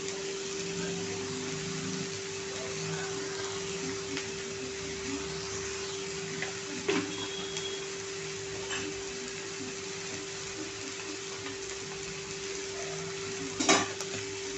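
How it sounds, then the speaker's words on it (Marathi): Gholchi (purslane) bhaji sautés in a pan, a soft continuous sizzle with a steady hum beneath and occasional scrapes and clinks of a spoon stirring. "आता मीठ टाकल्यानंतर ही भाजी परतायची आहे।"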